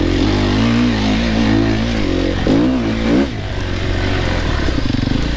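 An enduro motorcycle riding off-road revs hard up close, its engine pitch rising and falling in quick surges before dropping to a rough, lower throttle.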